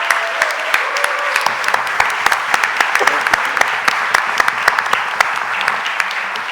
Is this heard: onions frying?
no